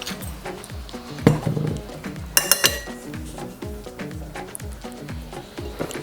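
Seasonings with parsley, garlic powder and white pepper being stirred in a dish, with steady clinking and scraping of a utensil close by, over a running background beat of music.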